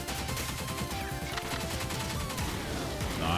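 Mine blast hitting enemies in the top-down shooter Pineapple Smash Crew, buried in a dense, continuous wash of rapid gunfire and crashing effects at steady loudness throughout.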